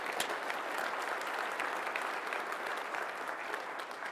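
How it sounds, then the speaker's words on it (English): An audience claps for John Sankson, retiring from a city post, at a State of the City address. The applause is a dense, sustained patter of many hands at an even, moderate level, without a voice on top. "We're going to give you a round of applause because you're special today."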